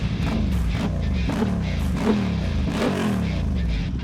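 A Honda CB750 Hornet 750 cc two-cylinder motorcycle engine revs up and down repeatedly, loud and close, with a throaty rumbling idle between the blips.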